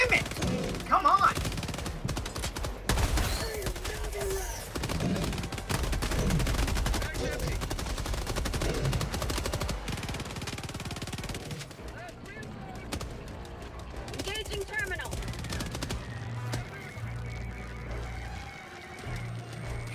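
Bursts of gunfire and explosive thuds during a Helldivers 2 mission, dense and loud early then thinning out, with people talking throughout the fighting.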